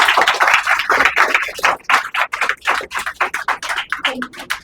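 Dense, energetic clapping fills a room at a stage-fear training session. The audience's claps come in quick, overlapping bursts, close and fairly loud, with no one speaking over them.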